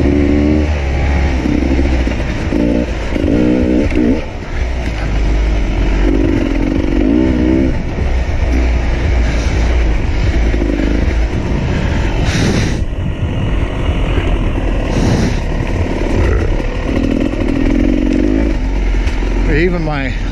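A motorcycle engine drones loudly and steadily while riding, with several revving surges and strong wind buffeting, up close throughout.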